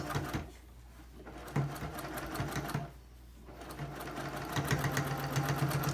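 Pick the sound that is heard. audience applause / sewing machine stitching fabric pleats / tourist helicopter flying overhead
sewing machine stitching fabric pleats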